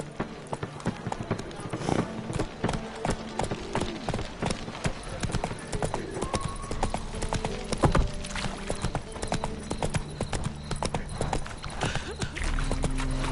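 Roach, a horse in the video game The Witcher 3: Wild Hunt, running with rapid rhythmic hoofbeat clip-clops over a background bed of game ambience, steady and close throughout.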